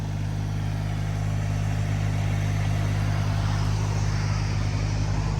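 A tractor engine runs at a steady, unchanging drone, close and continuous, with a low rumbling hum and no one talking.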